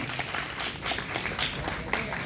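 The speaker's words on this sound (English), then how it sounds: "Please give a big round of applause for that." An audience at a lecture on mental health and tobacco claps steadily, a dense even patter of many hands without pause throughout.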